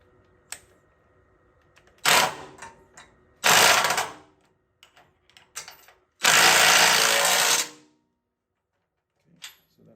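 Bolts on the frame of a 1971 Dodge D100 Sweptline truck cinched up with a power tool, heard as three loud bursts of whirring separated by quiet gaps and small clicks, up close.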